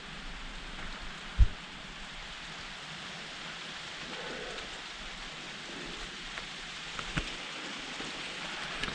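Rain falls steadily in a mountain valley in Andorra, a soft continuous hiss with a few faint thumps.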